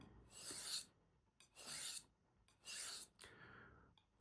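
A deliberately dulled kitchen knife drawn along a homemade ceramic honing rod, giving four separate close, raspy strokes, each about half a second long, with brief pauses between them.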